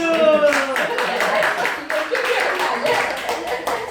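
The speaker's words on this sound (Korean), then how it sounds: "자, 우리 다 같이 나영 박수" A church congregation claps together in a rhythmic group clap during a worship service, loud and close, with voices mixed in.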